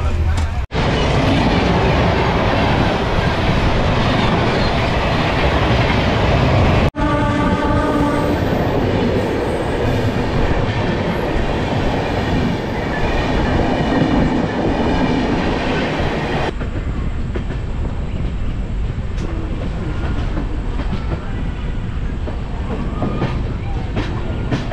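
The Hamsafar Express rolls on rails from Jalpaiguri Road toward Sealdah as it enters Malda, a loud continuous rumble with clickety-clack wheel beats heard from inside the train, with voices talking over it.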